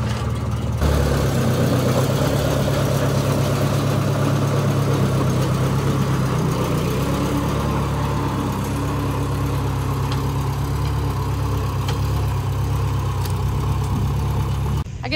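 A farm tractor engine, freshly started hot on a 96-degree day, runs at a steady, loud, unbroken idle with a deep rumbling drone that persists without a break.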